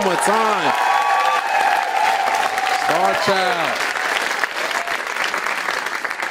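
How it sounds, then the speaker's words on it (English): An audience at a street dance event applauds continuously, a dense wash of clapping with a voice calling out over it near the start and again midway. "Round of applause one more time"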